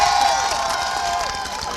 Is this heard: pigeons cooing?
no